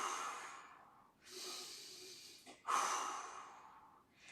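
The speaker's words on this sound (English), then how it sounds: "I want you to think about huge exhales" Huge, forceful exhales during a plank hold: three long, breathy whooshes separated by short pauses, close and fairly quiet, with no talking.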